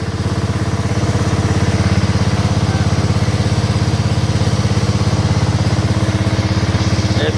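Craftsman DYT riding lawn mower engine running after a hard start, a loud, steady close-up idle with a fast even putter and mechanical clatter, no voices.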